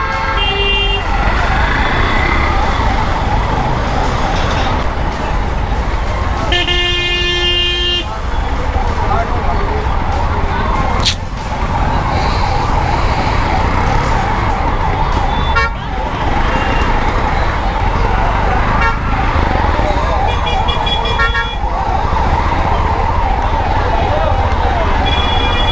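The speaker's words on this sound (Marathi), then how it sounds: "लोकांना ना आवाज येतो लांबून ॲम्ब्युलन्सचा." A wailing ambulance siren stuck behind parked vehicles in Mumbai road traffic, loud and continuous over engine and street noise, with voices talking now and then.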